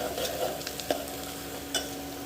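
Steady sizzle of onions frying in a pan, with a couple of brief clicks of a utensil stirring; no voices.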